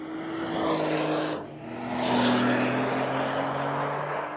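A Porsche 911 GTS Hybrid drives by with a loud engine rising in pitch, easing briefly, then building again in a strong sustained drone.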